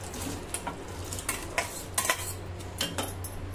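A utensil scrapes and clinks against a pot while soaked rice and cashews are stirred with water over a high gas flame, irregular close scraping taps over a low burner hum.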